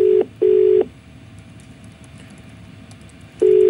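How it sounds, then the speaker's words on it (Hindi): A telephone ringback tone sounds in repeated short bursts with pauses between them, steady and electronic, over a faint background hiss. "आप सुन सकते हैं फोन की घंटी भी बज रही है उनके"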